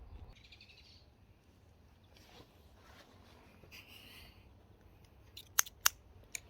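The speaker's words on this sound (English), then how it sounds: "Scissors." Scissors are handled during work on a titanium wind shield for an alcohol stove, with a few faint rustles and then several sharp, crisp snips close by in quick succession over a quiet background.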